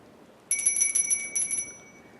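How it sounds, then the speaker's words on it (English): A small bell rings in a quick burst of bright, repeated strikes lasting about a second, fairly close and clear against a quiet background. "He slowly reached for the bell and rang."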